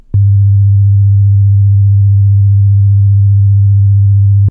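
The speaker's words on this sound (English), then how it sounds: "A sine wave signal may sound like this." A single steady low-pitched 25 Hz sine wave tone hums continuously for several seconds, starting and stopping abruptly with soft clicks.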